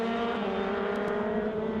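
A Toyota Racing Series single-seater at Taupo downshifts into a corner, its engine a loud, continuous, high-pitched race whine with quick blips as it drops through the gears.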